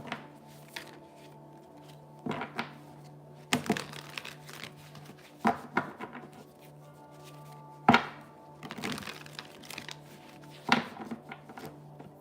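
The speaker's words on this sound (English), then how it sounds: "We're gonna shuffle for you now" Tarot cards being shuffled, with bursts of riffling and crinkling card noise at irregular intervals over a low steady hum, close and fairly quiet.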